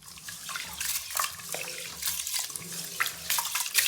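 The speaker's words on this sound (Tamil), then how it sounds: "இப்போ இதை கழுநீர் பிடிச்சி தண்ணி ஊற்றிட்டு வந்தாலும்" Water splashing and pouring into a container in uneven bursts while rinsing rice, close by, with scattered drips and sloshing.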